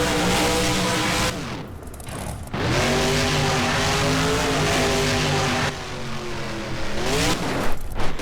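Monster truck engine roaring and revving hard while spinning a donut in BeamNG, loud and sustained with rising and falling pitch, a brief dip mid-spin before the throttle surges again.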